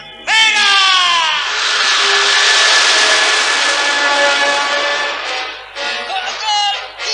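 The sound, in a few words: airplane taking off, sound effect in audio drama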